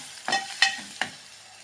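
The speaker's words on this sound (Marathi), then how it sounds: "यामध्ये मी आता हळद टाकणार आहे, अर्धा चमचा. हळद मिक्स करून घ्यायची आपल्याला." Turmeric being stirred into fried onion and tomato in a pan: three sharp scraping strokes of a spoon against the pan over a soft sizzle, close and brief.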